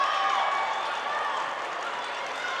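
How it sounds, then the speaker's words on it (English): Cardinal fans and the North Central bench clapping during a women's college basketball game against Carthage, a steady, diffuse patter of applause that sounds somewhat distant and muffled and keeps an even level throughout. "Some Cardinal fans have broken out in applause"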